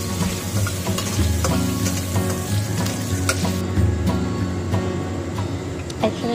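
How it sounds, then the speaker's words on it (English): Vegetables cooking quickly in hot oil in a pan, a steady close sizzle with scraping stir sounds throughout, while a low rumbling hum runs underneath, for a Japanese-style homemade hamburger. "I'm going to use the heat and the oil to just quickly cook the vegetables"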